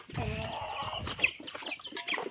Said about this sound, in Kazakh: Тауықтар.